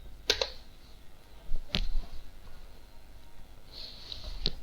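Enter key pressed on a computer keyboard during office ERP data entry, heard as three sharp, quiet clicks spread apart over a faint room hiss.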